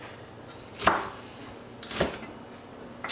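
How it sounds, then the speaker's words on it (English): Potatoes being chopped with a knife for breakfast potatoes, two distinct, fairly close knife strikes on a cutting board about a second apart over a quiet background. "And you chop them like so, various sizes."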